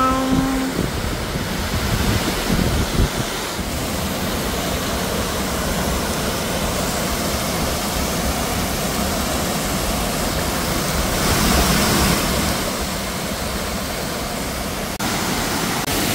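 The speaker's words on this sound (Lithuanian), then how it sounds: "mes prieiname Niagaros krioklį" A roaring waterfall that a group is walking toward makes a broad, continuous rush of falling water, steady and enveloping, with a brief tonal sound at the very start and slight swells in loudness later.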